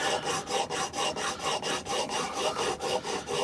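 A chisel left unsharpened for years being worked on a diamond sharpening stone, giving a close, even back-and-forth rasping rhythm of about four strokes per second that carries on without a pause.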